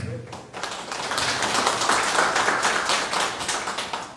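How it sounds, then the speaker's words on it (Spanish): Applause at a farm credit ceremony for a soybean and maize farmer swells into dense, steady clapping from an assembled crowd, close and fairly loud, lasting several seconds after a brief opening voice. "Fuertes los aplausos para don"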